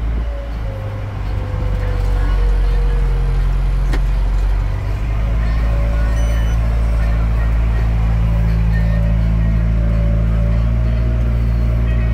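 A farm vehicle reverses to climb a curve during soybean planting, its engine giving a loud, close, steady low rumble throughout, with a faint voice now and then.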